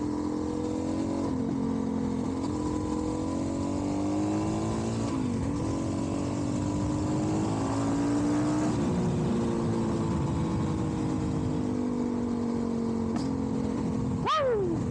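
A Suzuki DR-Z400SM motorcycle with stock exhaust and a 12-tooth sprocket drones loudly and continuously, its pitch sweeping up and down as the rider revs through the gears.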